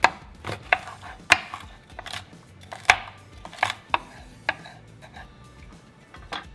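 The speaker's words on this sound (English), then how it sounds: "I've just been so obsessed with red onion lately, like I cannot get enough of it. So I'm gonna cut some of that." Red onion being sliced with a knife on a cutting board in a home kitchen, with a steady series of sharp, close chops landing irregularly, a few louder strikes among them, and no voices.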